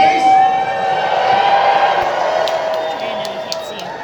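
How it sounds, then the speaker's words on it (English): A large crowd at an anime convention panel cheers and whoops loudly for a stage selfie, a dense sustained roar that fills the whole clip. "So when I take it, cheer as loud as you can."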